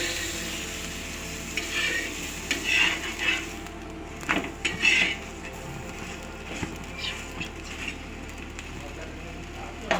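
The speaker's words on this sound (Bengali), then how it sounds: "আর একটু বাটার আমি দিয়ে দিচ্ছি চারিপাশ দিয়ে" Butter sizzles around naan in a hot pan, with a steady soft crackle under occasional stirring and scraping, some louder bursts near the middle, fairly close.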